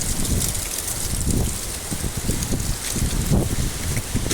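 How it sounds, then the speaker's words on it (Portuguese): Rain arrives with gusting wind over the town of Queluz, São Paulo, a dense, steady hiss with rustling swells that stays loud throughout. "Olha a chuva aí, minha gente."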